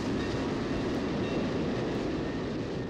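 A steady, loud rumbling roar of a passing Oregon Coast Scenic Railroad train fills the whole stretch, continuous and close, with no voices.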